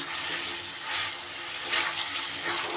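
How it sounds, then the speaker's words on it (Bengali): Pre-fried potatoes hit a pan of sizzling cooked-down spice paste for a vegetarian potato dum, a close, continuous crackling sizzle that swells slightly in waves as the pieces are stirred in. "এইবার আমি আগে থেকে ভেজে রাখা আলুটা দিয়ে দিলাম"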